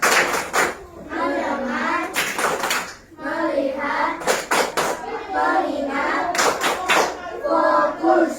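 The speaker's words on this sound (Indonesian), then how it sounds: "Tepuk fokus." Children in a classroom perform a rhythmic focus clap, crisp claps in quick clustered bursts mixed with their chanting voices, loud and close.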